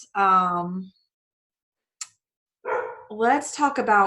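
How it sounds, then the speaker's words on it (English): A few dog barks sound in separate bursts with short silent gaps between them, fairly close and clear. "if you can hear my dogs, they're just barking away back there."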